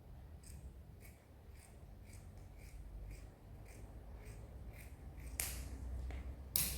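Scissors cutting fabric for palazzo pants, a quiet series of crisp snips in an uneven rhythm, close by with no talk, ending in a couple of sharper clicks.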